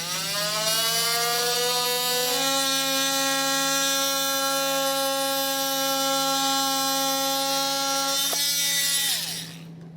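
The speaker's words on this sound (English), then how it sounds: "I'm going to use a multi-tool to trim this out." Oscillating multi-tool cutting through a plastic vehicle trim panel during a trailer hitch install, a loud steady high-pitched buzzing whine with a shifting tone, held for several seconds before cutting off, no voices.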